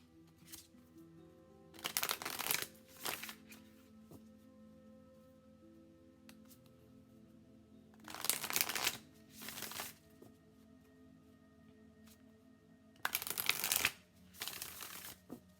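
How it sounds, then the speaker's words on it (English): A deck of Modern Love Tarot cards being shuffled by hand, heard as three separate bursts of riffling and flapping card noise, close and fairly quiet, with near-silent pauses between them. "Spirit, we are using the Modern Love Tarot by Ethany."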